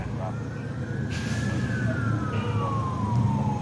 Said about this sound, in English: Got another ambulance coming down here.